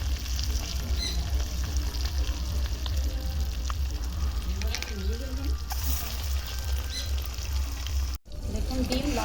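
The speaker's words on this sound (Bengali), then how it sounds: "লাল করে ভেজে নিয়েছি" Cut eggs fry in hot oil until red, producing a continuous close sizzle with scattered pops, a voice briefly audible underneath and a short dropout near the end.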